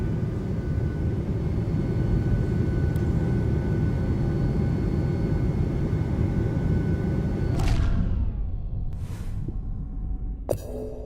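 A steady, loud, broadband engine hum fills an airplane cabin during a flight in the video game D4, then cuts off abruptly near the end, leaving a few faint clicks.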